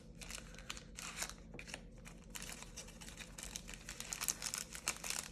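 Crinkly plastic wrap rustles and crackles around A. Gallo watercolor half pans as they are unwrapped, a close, busy run of crumpling and tearing sounds with sharper bursts toward the end.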